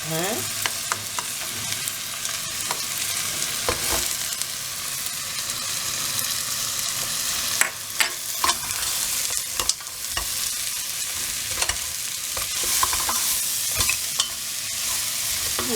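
Masala for crab masala sizzles steadily in a hot pan while being stirred, with scraping spoon strokes and occasional sharper clinks over a constant frying hiss.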